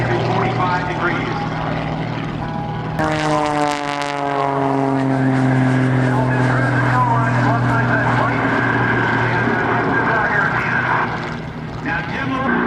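Propeller aerobatic plane at the NAS Oceana airshow, its engine droning with pitch sweeps as it snap rolls, under continuous announcer commentary.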